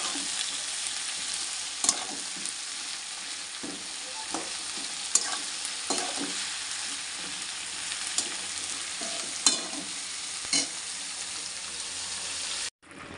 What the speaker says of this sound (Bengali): এই পেঁয়াজ একটু হালকা ভাজবো, খুব না।